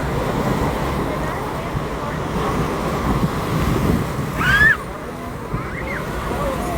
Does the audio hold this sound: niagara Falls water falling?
yes